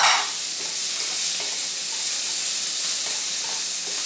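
Purple, pink and yellow potatoes hit a hot pan of vegan soy-protein kheema with a loud sizzling burst, settling into a steady, close frying hiss with faint stirring clicks.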